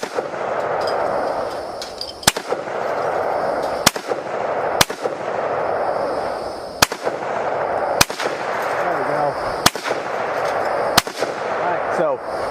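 Gunshots from a gun fitted with a cheap Amazon red dot sight, outdoors, fired as loud single sharp reports spaced one to two seconds apart, with a steady wind-like rush between them.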